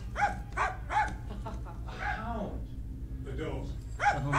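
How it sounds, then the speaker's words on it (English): A dog barks several times in an episode of the anime Cowboy Bebop, sharp, fairly close yelps in short bursts at the start and again near the end, with voices and music running underneath. "A hound."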